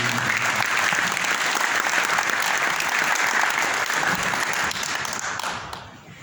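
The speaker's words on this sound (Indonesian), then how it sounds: "Terus boleh kasih tepuk tangan kembali untuk Mas Ade" Audience applause following a speech at an Indonesian event, a full, even round of clapping that holds steady and then fades out near the end.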